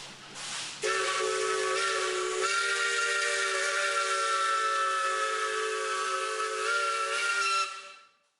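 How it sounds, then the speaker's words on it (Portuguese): A steam whistle on an old Mogiana railway steam train sounds with a short hiss and then one long, loud, steady blast that lasts several seconds before it cuts off. No voices are heard. "Feliz eu seria se eu visse agora, da velha mogiana, o saudoso apito."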